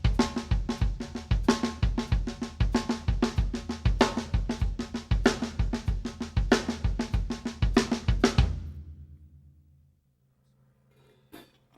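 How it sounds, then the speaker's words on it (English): A rock drum groove on a full kit, with the bass drum and a left-hand snare backbeat played in a steady, even pattern. The hits are loud and close and sound alone, then the kit stops and rings out into near silence. "Now the left hand plays opposite the bass drum."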